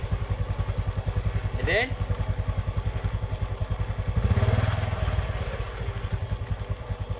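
A motorcycle engine runs in gear during a lab test, holding a steady rapid pulsing close by and briefly rising in revs partway through, while someone speaks over it.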